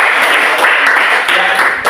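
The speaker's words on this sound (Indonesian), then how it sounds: "tepuk tangan untuk kita semua" Group clapping in a classroom after children sing a worship song, a dense, loud patter of hands that fills the whole moment with a brief dip near the end.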